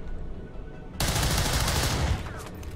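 Video game gunfire from XCOM 2: a sudden loud burst erupts after a quiet moment and rattles for about a second before fading.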